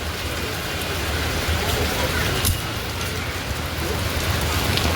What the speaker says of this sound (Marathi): पाऊस आहे भरपूर, पाऊस तर काय ऐकतच नाही